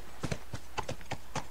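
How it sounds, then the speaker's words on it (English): Horse hooves clip-clop in The Last of Us, a quick, uneven run of soft, close thuds with no talk over them. "My horse is running into walls."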